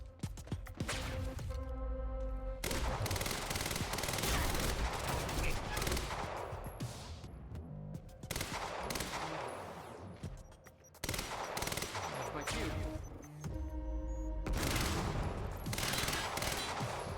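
An advanced SMG fires in Quantum Break, long sustained automatic bursts, loud and close, broken by brief pauses and a few sharp impacts, with no talk.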